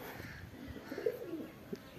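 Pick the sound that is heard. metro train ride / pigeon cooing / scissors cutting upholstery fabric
pigeon cooing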